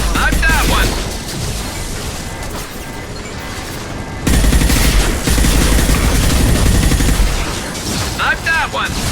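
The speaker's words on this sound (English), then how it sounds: "Firing a high-impact shot!" Heavy gunfire and explosive blasts from a high-impact weapon in the sci-fi shooter game Mass Effect 2, loud and dense throughout with a sharp jump in intensity midway and voices calling out over the combat.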